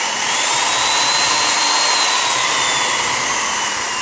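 A Japanese domestic-market electric drill with a 13 mm chuck runs with a steady, even motor whine that holds close and loud throughout, with no talking.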